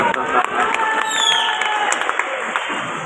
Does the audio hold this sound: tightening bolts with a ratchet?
no